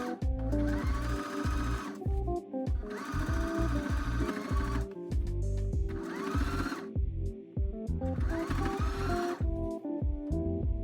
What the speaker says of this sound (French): J'ai donc cousu à l'intérieur, mais j'ai aussi fait une surpiqûre à l'extérieur pour que ce soit encore plus solide.